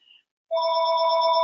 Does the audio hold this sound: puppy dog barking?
no